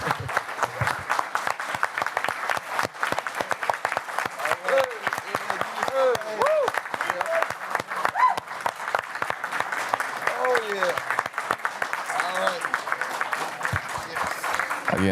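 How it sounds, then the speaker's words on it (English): A crowd at a school board meeting gives a loud, sustained round of applause with dense, continuous clapping. Voices and cheering come through beneath it. "one more round of applause for everybody"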